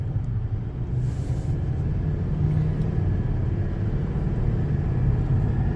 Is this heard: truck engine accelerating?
yes